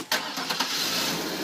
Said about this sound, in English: Hear that engine purr, ladies and gentlemen?